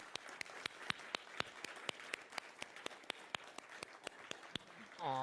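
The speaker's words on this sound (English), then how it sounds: "let's give them a round of applause" Sparse, steady clapping from a small church congregation, sounding somewhat distant and quiet, with a voice starting up right at the end.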